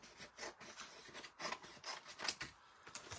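Soft, quiet, rhythmic scraping strokes as card paper is scored for Christmas card album pages, each short rub repeating at a steady pace up close with no voices.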